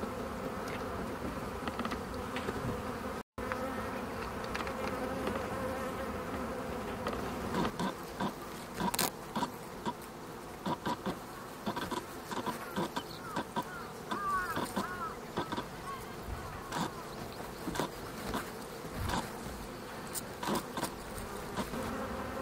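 Honeybees cluster around a queen bee during beekeeping, giving a continuous close buzzing hum with scattered louder passes of individual bees and faint handling noises, heard for over twenty seconds.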